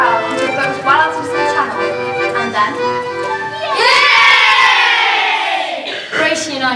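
A crowd on an island bursts into loud cheering and whooping, with children's voices among it, rising sharply after a stretch of excited voices and staying near and loud to the end.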